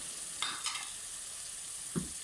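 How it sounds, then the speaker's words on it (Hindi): Tomatoes, green chillies and ginger paste fry in a pan for a potato and green bean curry, a quiet continuous hiss with two or three soft stirring scrapes, no voices. "अब हम टमाटर और हरी मिर्च डाल देते हैं।"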